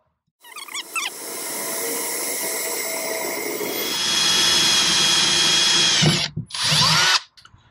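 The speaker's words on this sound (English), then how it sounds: "So I'll get started with drilling these." Power drilling into a Berkeley 12JG jet boat pump: a steady, loud whirring bite into metal that rises in intensity midway, then stops and restarts briefly before cutting off, with no talk.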